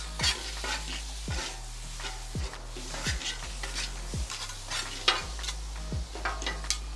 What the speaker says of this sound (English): Let's go ahead and throw some garlic. Give that a little mix.